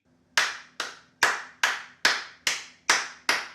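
Eight crisp, sharp hand claps at an even, steady pace, loud and close, each ringing briefly before the next, with a faint low hum beneath.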